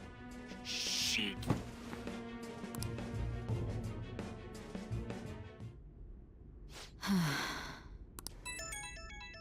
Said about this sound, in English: Oh, her phone's going